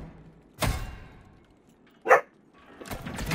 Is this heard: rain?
no